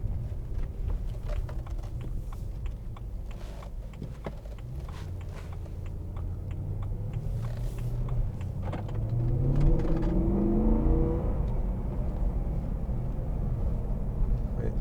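A 2011 BMW M3 4.0 V8 with a DCT gearbox accelerating on the road, its engine note rising steadily in pitch and loudness toward the end under continuous cabin and road noise.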